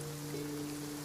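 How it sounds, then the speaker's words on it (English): Soft, steady rain hisses in the video game Genshin Impact, faint and continuous with a low sustained hum beneath, with no talking over it. "It's been raining non-stop for a few days now."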